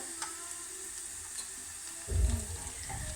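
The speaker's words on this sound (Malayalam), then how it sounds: "ഇപ്പം ഇത് കൊച്ചുള്ളിയും കറിവേപ്പിലയും കൂടെ ഇട്ട് നല്ലോണം ഇളക്കി കൊടുക്കുന്നു." Shallots and curry leaves are tossed into hot oil with mustard seeds in a pan, giving a soft, steady sizzle that swells into a louder crackle as they are stirred.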